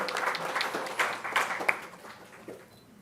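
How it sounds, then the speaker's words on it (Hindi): Audience applause welcoming Professor Jagdish Mukhi at a birthday event for Narendra Modi, a scattered round of hand clapping of moderate loudness that thins out and fades. "उनके लिए भी आप जोरदार तालियां बजाएं, स्वागत करें"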